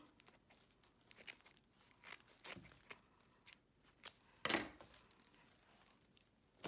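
Ribbon being cut for an Easter swag, heard as faint, close crinkles, rustles and short snips in a quiet room, with one sharper crunch near the end.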